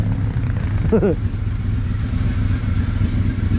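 A KTM motorcycle engine runs with a steady, rough mid-pitched drone near a shed. A short vocal-like burst briefly sits over the continuous engine noise.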